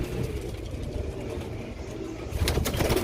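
Pigeons kept by a breeder, including rare Persian-type birds, coo softly and steadily at close range, with a burst of wing flapping and rustling near the end.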